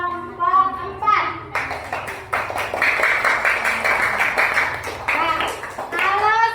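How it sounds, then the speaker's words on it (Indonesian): Children in an elementary school classroom clap for a student group, a burst of rhythmic group clapping following a teacher's speech, with talking resuming over the final moments. "tepuk tangan untuk kelompok 4"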